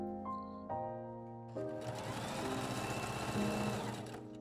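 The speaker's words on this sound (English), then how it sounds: "stay stitch the seam allowance of the neck and armholes with the longest stitch lengths of your sewing machine" A sewing machine stay-stitches the neck and armhole seam allowances of a fabric dress-form cover on its longest stitch length. Soft mechanical clicks lead in before the motor spins up into a steady, close whirring run that continues to the end.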